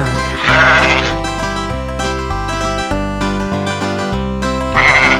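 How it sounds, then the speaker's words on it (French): Sheep bleat twice, at the start and end, over a bouncy children's nursery-rhyme tune played on bright electronic instruments. "Baba, mouton noir, as-tu de la laine?"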